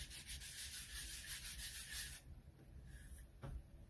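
Cloth rubbing wax off a wooden riser, a steady close scrubbing swish that continues for about two seconds, then softer intermittent rubbing strokes follow.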